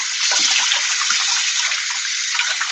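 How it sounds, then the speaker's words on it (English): Water from a tap streams steadily into a sink as hands are washed, a continuous close splashing rush that fills the whole stretch without pause. "let me go wash my hands"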